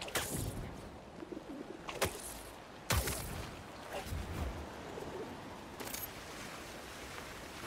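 Pigeons coo and call in Spider-Man 2, with soft repeated coos over a busy city ambience and a few sharp clicks and flutters, fairly close and moderately loud.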